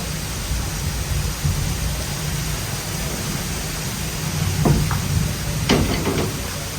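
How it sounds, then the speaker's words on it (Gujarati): Heavy monsoon rain pours down in a steady, dense hiss after a downpour of about eight inches, with a few faint, brief rumbles of thunder rising near the end and no voices. "હું તમને સંભળાવું કે વીજળી થાય છે"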